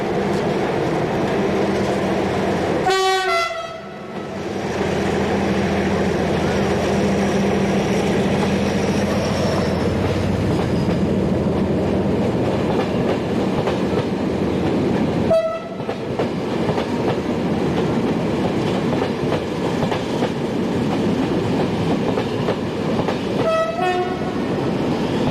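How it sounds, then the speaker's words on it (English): A Portuguese Class 1520 diesel locomotive pulls an evening intercity into Pinhal Novo station, its engine rumbling loudly and steadily. A horn sounds near the start, wheels clack over the rails, and brief horn calls return midway and near the end. "Class 1520 waits for the road at Pinyal Novo as this unidentified class member arrives"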